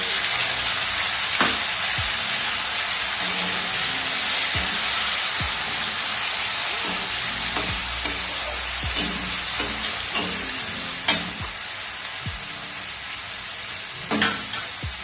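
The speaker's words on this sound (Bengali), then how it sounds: "এরপরে ওই তেলেই দেব টমেটো কুচো টমেটো কুচোটা আমরা এর মধ্যে দিয়ে দেবো" Chopped tomato sizzles and fries in hot oil left from frying potatoes, a steady loud hiss with occasional stirring scrapes and pops, no voices.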